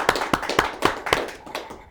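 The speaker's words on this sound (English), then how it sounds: "Let's give a big round of applause to the one and only Dr. Destruction" Applause from an audience greeting a performer at a Halloween show, a steady run of sharp overlapping hand claps that starts strong and tapers slightly.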